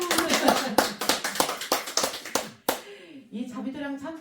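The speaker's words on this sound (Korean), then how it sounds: "박수 한번 쳐주세요" A crowd claps loudly and briskly at a Buddhist dharma talk, dense rhythmic claps that stop abruptly, followed by someone speaking.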